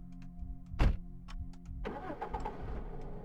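A car engine cranks and starts in the game Cataclysm: DDA: a sharp burst of the starter, then the engine catches and settles into a steady running rumble, with no talk.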